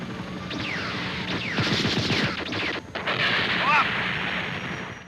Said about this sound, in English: it's better to do a combination of missiles and machine gun, as you can see I'm doing here.